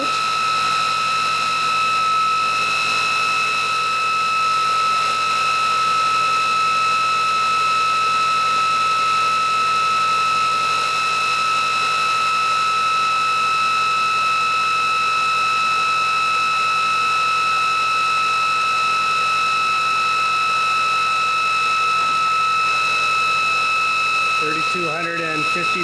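A ReGenX generator spinning up in motor mode, giving a steady, loud mechanical whine with sustained high-pitched tones and an even hum throughout, with a brief rustle near the end.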